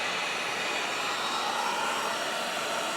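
Compressed air blowing oil through a Honda Express motorcycle's oil injection line, a steady loud rushing hiss that holds evenly for the whole stretch with no talk.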